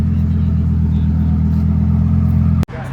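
A Lamborghini Huracan Sterrato pulling in at a car meet, its engine a loud, deep, steady rumble close by that holds constant before cutting off abruptly near the end.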